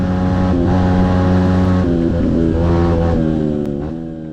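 Kart engine held at full throttle on a dirt track, a loud steady harmonic drone that wavers slightly in pitch and fades a little at the end.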